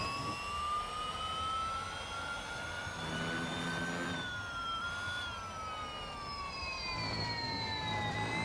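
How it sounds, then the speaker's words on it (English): Tyres squealing on a Porsche Mission R in the racing game Real Racing 3, a sustained high whine that bends up and down over a continuous engine roar, loud and close with no talking. "A little bit of a squeal just to add to the atmosphere."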